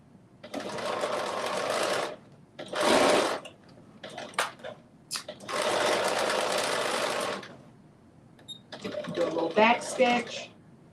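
A sewing machine runs in several bursts of steady whirring while stitching the seam of a knit crop top, with pauses between runs and brief speech in the gaps.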